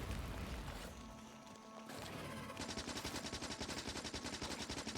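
Gun turrets in Factorio firing in a steady rapid rattle, a rhythmic automatic burst that builds in the second half after a rougher crashing start, moderately loud under game ambience.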